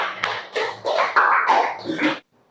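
Students clap in a classroom after a group presentation during a teacher-training session, the sound coming in several uneven bursts and then stopping abruptly just before the end.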